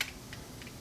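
Parts of a Sony KV8AD10 television being repaired give a few faint, light clicks spread over less than a second, with no talk.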